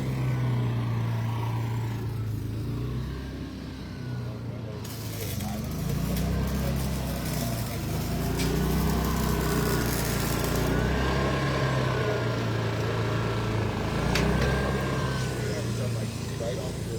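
A generator on a cabin build site runs loudly close by with a steady droning hum and shifting engine tones, while a person talks over it.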